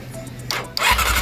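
Honda CB-1 motorcycle engine being cranked by its starter, which has a faulty starter relay: a short, close grinding whir that builds into a rough mechanical churn with no voice over it.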